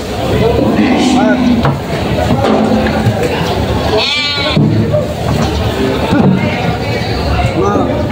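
Goats bleat repeatedly at a busy livestock market in Padre Garcia, Batangas, loud overlapping calls rising over a dense crowd murmur and nearby talking.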